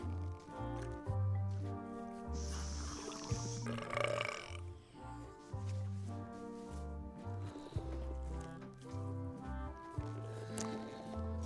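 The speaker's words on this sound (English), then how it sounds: "Hey, how about a burping contest?" A burping contest in the video game Return to Monkey Island: several loud, long, low belches follow one another over rhythmic game music.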